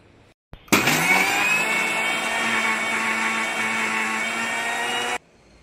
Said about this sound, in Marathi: आमी आतां हो नारळ बरो करून वाटया आनी ताचो दाट आनी पातळ रोस काडया